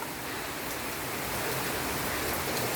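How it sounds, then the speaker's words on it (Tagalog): Rain dripping outdoors: a steady, dense wash of patter and drips, fairly close, with no voices. "Tuwang-tuwa po sa tulo ng ulan."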